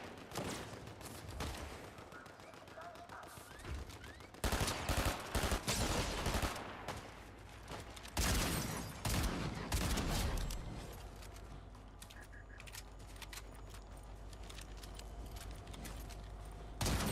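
Sniper gunfire in a video game, heard as sharp loud cracks amid dense game noise, with bursts of shots clustered around the middle of the clip and a steady mechanical background throughout.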